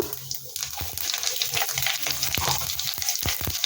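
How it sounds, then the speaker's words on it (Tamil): Mustard seeds and cumin sizzle in hot oil for tempering, a loud continuous fry with sharp popping crackles scattered through it, close and alone without talk. "இப்போ கடுகு நல்லா தாளிஞ்சிருச்சு இப்போ மெழுகு ஜீரகம் ஆட் பண்ணிக்கலாம்"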